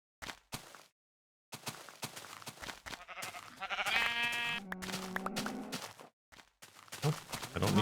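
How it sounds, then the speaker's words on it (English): Sheep in a video game give a clear, drawn-out bleat that wavers up and down for a couple of seconds, set among short clicks and game sounds, with a bit of talking nearby. "Oh, I don't need more sheeps."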